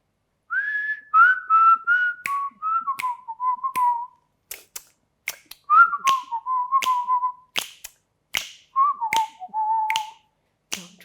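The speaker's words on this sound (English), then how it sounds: "I whistle nicely in tune and everything" A person whistles a tune, clear melodic phrases close to the listener, punctuated by sharp rhythmic finger snaps, with no talking.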